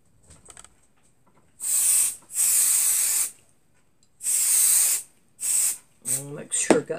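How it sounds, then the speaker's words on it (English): An aerosol can sprays in several bursts over a Barbie doll sleeping bag craft project, loud, close hissing blasts of uneven length separated by short pauses, with faint handling noises between them. "Let me get my spray."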